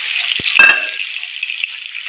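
Chopped onion, capsicum and chillies fry with a pinch of salt in a pan, giving a steady close sizzle with one short burst of stirring near the start and no voices.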